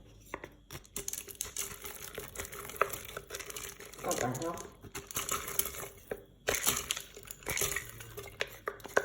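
Berkoukes pasta pellets poured into a Cookeo multicooker pot, with scattered rattling, clinks of utensils against the pot and rustling, while someone talks between the sounds.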